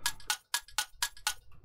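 A dry clock tick-tock effect sounds alone with no effects applied, six crisp, evenly spaced clicks close up and quiet, alternating slightly in tone.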